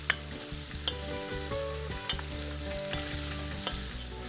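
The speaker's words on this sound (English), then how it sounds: "Bay leaves, and I'll give it a little mix." Paprika, cumin and bay leaves are stirred in a hot pot for goulash, with a continuous sizzle and repeated scraping strokes of a spoon against the bottom of the pot.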